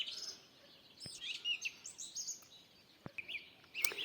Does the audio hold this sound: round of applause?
no